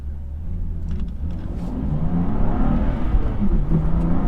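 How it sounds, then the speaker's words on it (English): BMW M2 Competition with a Remus exhaust and its valves closed, accelerating hard from first into second gear; a rising engine roar with a brief dip at the shift, heard from inside the car. "So this is going to be first to second gear with the valves closed."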